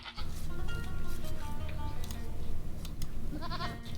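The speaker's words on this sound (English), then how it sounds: "See some nice sheep scouting here from" Sheep bleat repeatedly in a medieval real-time strategy game match, several overlapping calls over a busy backdrop of game ambience and unit sounds.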